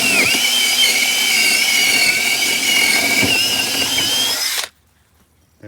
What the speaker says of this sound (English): I have a drill bit here that we're going to use to do that with.